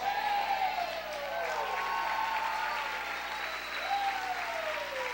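Church congregation applauding in praise, a dense steady wash of many hands clapping throughout, with voices and a few high cheers or whoops rising over it.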